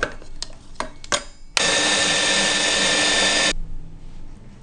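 A few clicks, then an electric meat grinder whirs loudly for about two seconds, shredding carrots before switching off into quiet.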